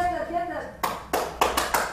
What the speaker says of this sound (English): The crowd firmly behind the Prince of Pain early on in this match